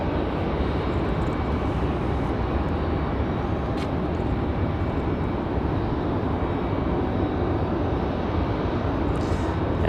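An American Airlines Boeing 737-800 arriving at Raleigh-Durham airport, heard as a loud, steady broadband jet roar that fills the whole stretch without letting up, with no voices over it.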